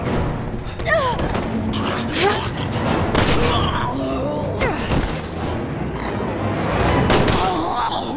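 Repeated gunshots and heavy thuds ring out in the survival horror game Resident Evil 6, scattered bangs mixed with shouted voices and a tense, busy backdrop.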